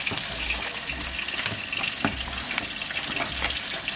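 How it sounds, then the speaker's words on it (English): Water in a seafood medley pot with string beans is stirred over a smokepot. A continuous bubbling, sloshing wash carries irregular soft knocks and splashes, with no talk. "Give this a stir."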